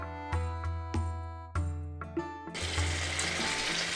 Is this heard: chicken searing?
yes